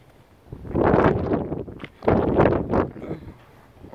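Wind buffeting a microphone outdoors on a ride with an electric bike pulling a trailer, in two loud broadband gusts lasting about a second each, with quieter rustle between them.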